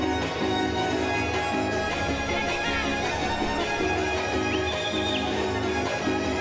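Horses neighing and whinnying amid hoof clip-clop at an anniversary town festival in Ejido Graciano Sánchez, Güémez, Tamaulipas, with a steady crowd and music bed underneath throughout.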